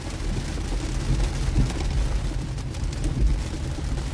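Heavy rain drumming on an electric car while driving on a mountain road toward Thimphu, Bhutan, a dense steady roar of wash and patter filling the cabin, close and continuous, no voices.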